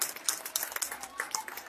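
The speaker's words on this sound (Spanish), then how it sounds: "¡Fuerte el aplauso para la familia que siga!" Applause from a crowd at an outdoor gathering along the Alameda toward a church, a dense, crackling patter of many hands clapping at once, fairly loud throughout.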